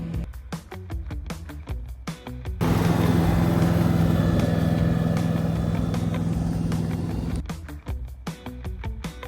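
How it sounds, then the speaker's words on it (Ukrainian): A lawn mower cutting grass on a football pitch before a match, its engine droning loudly and steadily through the middle after short bursts of clicking and knocking at the start and end. "Сьогодні вже косимо траву, щоб вона була гарна, готова до цього матчу."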